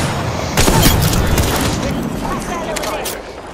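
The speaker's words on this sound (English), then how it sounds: "I am taking fire, friends." Rapid video-game gunfire bursts in a squad shooter match, loud and dense throughout, with heavy booming shots near the start tapering slightly toward the end, with speech mixed in.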